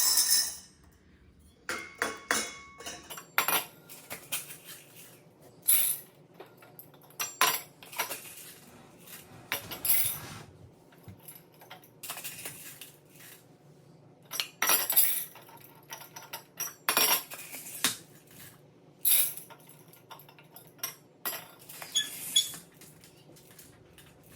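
Dried beans are packed into glass canning jars for pressure canning, giving intermittent clinks and rattling clatters of hard beans against glass and metal, up close, in irregular bursts separated by brief quiet gaps with no talk.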